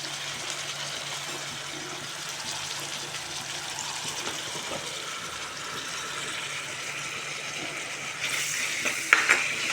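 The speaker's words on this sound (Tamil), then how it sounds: "ஆனியன் நல்லா ஃப்ரை ஆகட்டும்" Onions frying in a pan make a continuous, fairly loud hiss and crackle that holds steady throughout, swelling slightly with a few brighter pops near the end; no voices.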